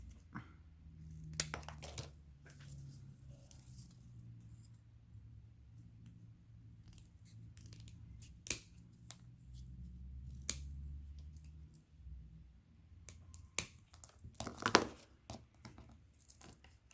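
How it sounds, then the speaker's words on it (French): Scissors snip small pieces of paper for a scrapbook photo album, a series of sharp, close clicks and cuts spaced irregularly over quiet, growing busier toward the end. "Et là, on va couper des tout petits bouts pour venir mettre en bas."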